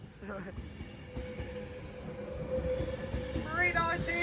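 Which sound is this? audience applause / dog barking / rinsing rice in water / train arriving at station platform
train arriving at station platform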